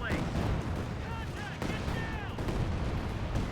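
Dense battle gunfire from a Company of Heroes 2 match, continuous rattling small-arms and heavier artillery-like bursts forming a loud, steady din with faint voice fragments under it.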